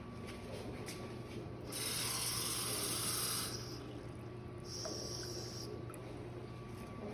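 Water poured into a measuring cup, two short bright splashing bursts of pouring separated by a pause, quiet and close in a kitchen.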